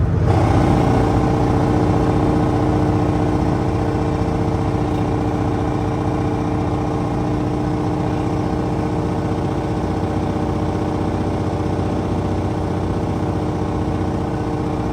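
A vehicle engine labors loudly and continuously while accelerating slowly up a hill, a close steady drone at about 1,800 RPM with no voices.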